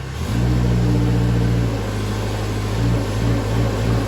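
A skid steer engine roars loud and close, rising as the throttle opens and holding a steady, droning rev with slight wavering in pitch.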